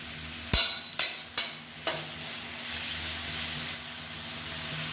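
Onions sizzle steadily in hot oil while making chutney, a spatula clacking against the pan four times, then the frying hiss carries on alone.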